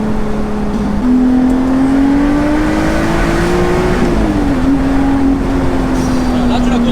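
A Lotus Exige V6 S 3.5 drones loudly and steadily from inside the cabin while driving, its engine note climbing gradually, dipping briefly near the end, then settling into a constant hum over dense road noise.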